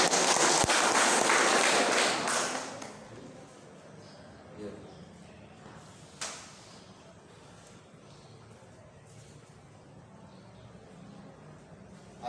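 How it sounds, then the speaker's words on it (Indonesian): Applause from an audience at a student president and vice president handover ceremony at Unitri, a loud sustained clapping that fades out after a few seconds, followed by quiet room tone and a few stray taps. "Tepuk tangan dulu."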